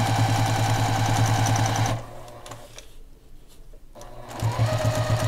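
A sewing machine stitches quilt binding with a 1/4 inch foot, a loud rapid mechanical whir that stops for about two seconds of near quiet and then starts up again.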